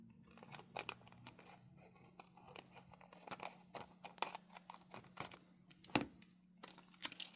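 Scissors snip through a piece of transfer foil in a quick run of crisp cuts with slight crinkling, close but faint, no one talking.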